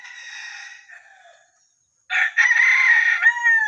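A mixed-breed red junglefowl rooster crows close by, a first call fading out, then a short silence before a second, louder crow that holds and trails off.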